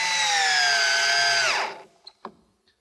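A cordless drill whines loudly at high speed for about a second and a half while driving small countersunk screws into wood, then spins down, followed by a couple of faint knocks.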